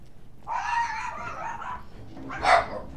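A pair of guard dogs barks inside a stealth video game, two short bursts of yapping separated by a brief pause, moderately close and heard on their own.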